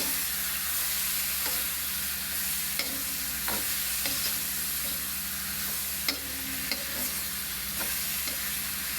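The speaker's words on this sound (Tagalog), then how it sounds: "lalagyan ko na yung upo guys yan haluhaluin na natin yan daming giniling guys" Bottle gourd and ground meat stir-fry in a pan with a continuous sizzle. A spatula clacks and scrapes against the pan at irregular intervals, close and steady.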